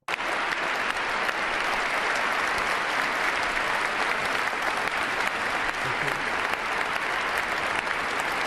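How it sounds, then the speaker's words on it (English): A large crowd claps steadily at Trump's inauguration, a dense, sustained wash of applause that holds at an even level from start to finish. "Look at all these people clapping for what he said about MLK."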